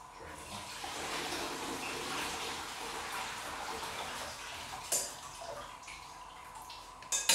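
Cold water runs over cooked noodles for Hiroshima-style okonomiyaki as a soft, steady rush, fairly quiet, with a couple of brief clunks near the end.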